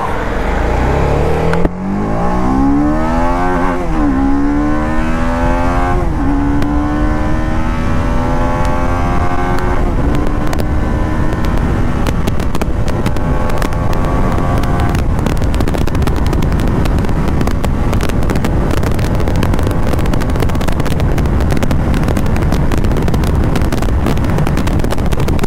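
A TVS Apache RR 310 sport motorcycle engine revs up through several rising gear pulls, loud and close, then settles into a steady high-speed roar with wind buffeting.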